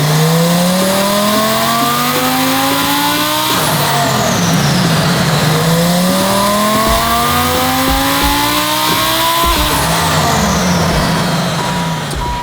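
A 1,400 hp Lamborghini Huracan STO engine revs hard in repeated rising sweeps on a dyno, pulling loudly up through the range, easing off, then climbing again in a second long pull with a roaring, continuous tone.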